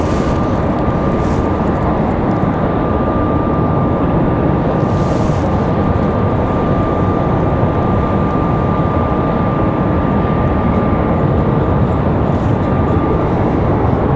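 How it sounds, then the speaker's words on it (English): A CRJ regional jet departs at Raleigh-Durham International, a loud, constant broadband roar with a steady tonal whine running throughout, some wind buffeting on the microphone, and no voices. "Got an CRJ up for departure."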